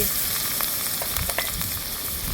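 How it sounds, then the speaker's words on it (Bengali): Chopped onion sizzles and crackles steadily in hot oil in a wok, a close, continuous frying hiss with small pops and no talk. "এখন আমি পেঁয়াজটাকে লাল করে ভেজে নিই"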